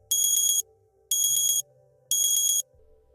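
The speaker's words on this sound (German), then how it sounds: "Der Wecker klingelt." An alarm clock rings in three evenly spaced bursts of shrill, rapid electronic beeping, each about half a second long, with quiet gaps between.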